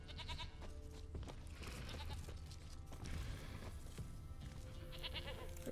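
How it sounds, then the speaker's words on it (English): Goat bleating in The Witcher 3: Wild Hunt, several wavering bleats over game ambience, near and fairly loud, with one at the start and another toward the end. "I heard a goat."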